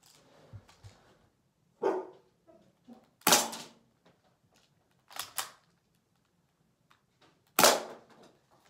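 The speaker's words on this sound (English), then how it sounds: "I don't know why the dog is barking." Izzy, a dog, barks in several separate sharp bursts spaced a second or two apart, loud against a quiet outdoor background with faint scattered clicks between.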